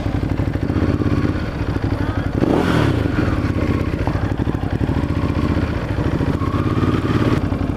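A motorcycle cruises through city streets, its engine rumbling steadily and loudly close by with some clatter and a brief rise in revs partway through, no speech over it.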